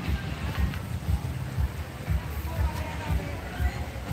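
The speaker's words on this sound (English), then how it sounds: "Damn, it's windy AF." Strong wind buffets the microphone outdoors, with steady low rumbling gusts pulsing throughout and faint background voices.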